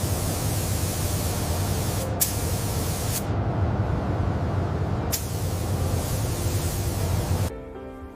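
A spray gun hisses steadily and loudly as it lays Volcano Orange Pearl base coat on a McLaren P1 body, with brief pauses between passes before the spraying stops near the end.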